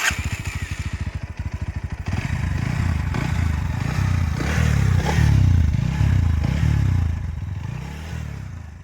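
Bajaj NS 125 motorcycle engine, about two years old with roughly 20,000 km, ticking over in a rapid, even idle pulse, then revved into a louder, sustained rising and falling drone close by.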